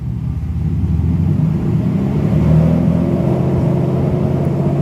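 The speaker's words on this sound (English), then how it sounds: "So I'm going to accelerate right now, and then I'm gonna switch it to second, third, and drive." A Mercedes SL600 engine pulls away in first gear after transmission work, giving a loud, close, steady low rumble that holds throughout with no talking.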